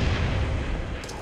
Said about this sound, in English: I'm just gonna throw grenades.